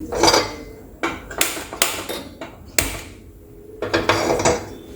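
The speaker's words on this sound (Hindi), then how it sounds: "पकौड़े बनाने के लिए मैंने एक कढ़ाई ले ली है" A metal kadhai set down on a gas stove while frying pakoras, a handful of sharp metallic clanks and knocks spaced irregularly, close and fairly loud against a quiet background.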